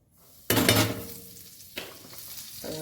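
Vegetables with salt and red chutney stirred and sizzling in a kadhai: a sharp scrape and hiss starts the frying, followed by a second stir clatter and a steady close sizzle.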